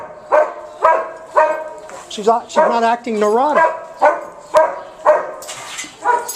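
A dog barks repeatedly in short, regular bursts and lets out a whimpering, wavering whine in the middle, close by, while a person talks over it.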